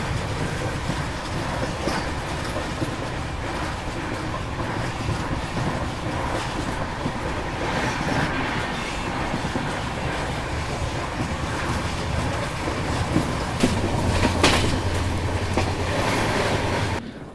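Mumbai-Hapa Duronto Express rolling along, a steady loud rumble of wheels and carriage noise with faint rhythmic clatter, heard from inside the train as it nears Hapa station.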